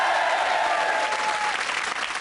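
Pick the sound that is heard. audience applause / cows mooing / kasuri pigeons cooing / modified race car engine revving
audience applause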